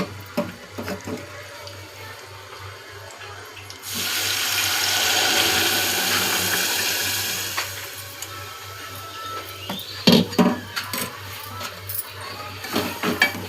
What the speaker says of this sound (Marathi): तर यामध्ये आता आपण सोडूया पाणी.